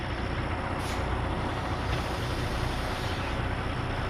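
A semi truck with a trailer, its brake set and axles being released: a short hiss of air breaks over a steady, loud diesel rumble that does not let up.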